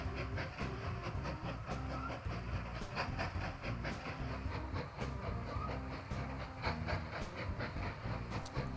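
A train runs in the video game Mashinky, giving a steady rolling rumble with rhythmic clickety-clack beats and faint hissing, continuous and moderately quiet without talk.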